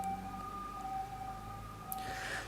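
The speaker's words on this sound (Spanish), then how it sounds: "Ahí suenan las sirenas." Emergency sirens wail outside, faint and distant, their steady tones drifting beneath a quiet room with a brief clatter toward the end.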